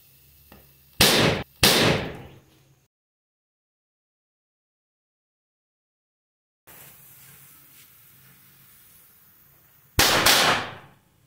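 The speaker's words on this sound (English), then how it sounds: "Did you see the explosion and rapid formation of hydrogen gas?" Sodium metal dropped into water outdoors reacts and bursts in loud explosive cracks: two sharp bangs close together, a quiet hiss of gas, then one more loud blast near the end.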